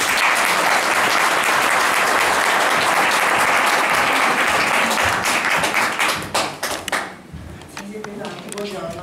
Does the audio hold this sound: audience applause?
yes